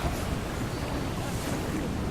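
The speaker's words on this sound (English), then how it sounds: "unusual Arctic weather patterns have produced an unseasonal storm that has driven winds to a strong gale force" A gale-force Arctic storm at sea roars as a dense, steady rush of wind and crashing waves. Buffeting wind noise on the microphone holds at a loud, even level throughout.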